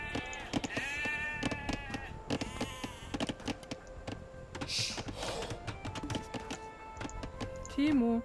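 Age of Empires II sheep bleat repeatedly over steady in-game chopping and clicking effects, with a commentator talking throughout.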